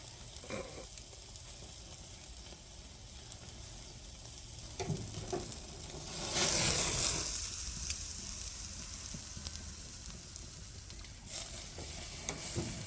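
Steak searing in a hot pan at a barbecue cook, a continuous close sizzle that swells louder for a moment midway, with occasional faint scrapes and no talking.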